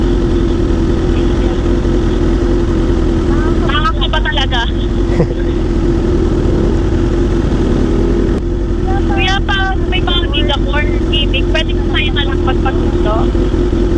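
A BMW big bike's engine running steadily at close range, a continuous low rumble under road noise, with bursts of chirpy, birdlike squeals overhead partway through.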